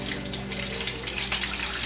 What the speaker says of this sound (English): Then you're just gonna add water.